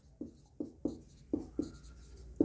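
Chalk taps and scrapes across a classroom board while a definition is written out, giving about six crisp, separate strokes at an uneven pace, close and distinct in a quiet room.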